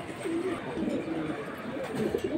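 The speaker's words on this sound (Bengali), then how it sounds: "এটা সাপচিলা কবুতর, ছাড়াছাড়ির জন্য খুব ভালো কবুতর।" Sapchila pigeons, a high-flying breed kept for release flying, coo softly in a low, rolling, repeated murmur, heard close over a faint background hum with no talk.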